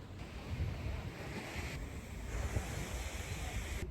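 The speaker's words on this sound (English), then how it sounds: "we're just at the beach. Beau Vallon." Ocean surf washes ashore at Beau Vallon beach in the Seychelles, a steady near roar of breaking waves mixed with gusty wind buffeting the microphone.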